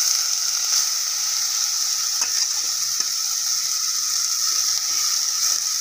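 Bottle gourd frying in desi ghee in a pan, a steady bright sizzle holding throughout with a few faint clicks and stirring taps, no voices.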